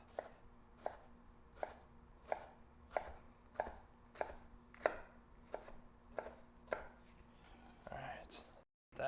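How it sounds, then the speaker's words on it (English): A knife chops quickly through a pile of stacked corn tortillas, a steady run of about a dozen evenly spaced sharp thuds on a board, close and clear, ending with a brief shuffle. "So they're pretty well piled up. And real quick chop."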